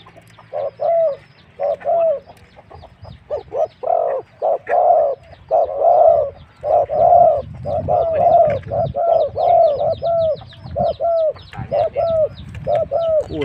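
Rhythmic, repeated bird calls, low soft cooing phrases in quick bursts, fairly close and steady, with no talking.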